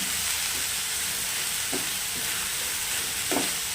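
Onions and dill greens are stirred together in a hot pan, a continuous soft sizzle broken by a few scraping strokes of the spoon.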